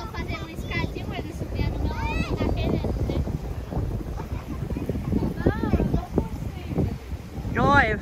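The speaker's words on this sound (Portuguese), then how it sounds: "Olha o vento. Deixa eu colocar a mão aqui que vai dar até barulho. Muito vento mesmo." Strong wind gusting across a beach, steady buffeting rumble throughout with people talking over it and a brief rise at the end.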